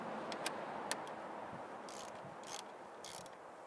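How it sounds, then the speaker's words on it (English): Screws being unscrewed from the engine air filter cover of a 2012 Ford Focus SE, giving a few sharp ratcheting ticks and faint scraping clicks, close to the microphone, with no talking. "first thing we're going to do is unscrew these four screws"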